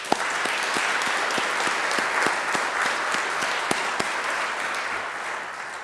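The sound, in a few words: funeral audience applause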